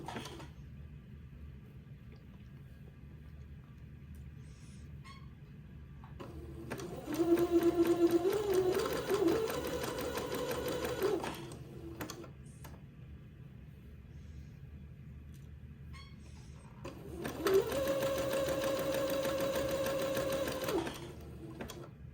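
A sewing machine stitching slowly along the curved lower edge of lace for a wedding outfit, running in two separate bursts of steady whirring and needle chatter with quiet pauses between, close and clear.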